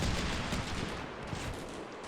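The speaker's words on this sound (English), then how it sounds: "we had Mark 19 fire from a striker" Rapid bursts of Mark 19 grenade launcher fire from a Stryker vehicle in a modern warfare strategy game, a dense continuous rumble of repeated shots at a steady distance with no voices.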